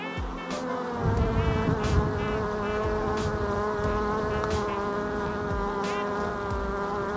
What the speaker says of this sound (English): Bees in there.